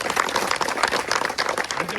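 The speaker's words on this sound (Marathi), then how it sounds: "तर एकदा सर्वांसाठी टाळ्या होऊन जाऊ दे." A seated audience at a 100th-session gathering during the Wari pilgrimage bursts into dense, continuous clapping, loud and close throughout.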